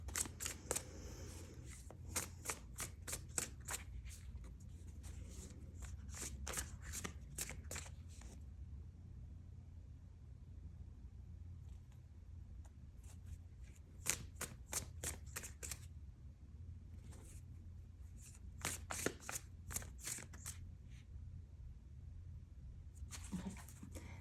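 Bursts of rapid riffling as a deck of tarot cards is hard-shuffled repeatedly, crisp fluttering flicks in several rounds separated by short pauses.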